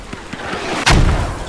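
A single loud explosion booms in a tactical video game, a sharp heavy blast with a rumbling tail after a stretch of softer background rumble.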